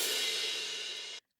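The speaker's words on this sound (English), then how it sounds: "It's kind of this orchestral transition." An orchestral transition effect from the Kashmir sample pack, stretched in time: a dense, bright wash that sustains at steady loudness for about a second before cutting off abruptly into silence.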